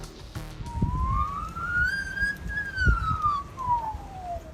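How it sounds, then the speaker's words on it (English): A single emergency siren wails at a distance in the Australian bush during bushfires, its tone sliding up and then back down, over low rumbling background noise. "The sound of emergency sirens will echo through the bush"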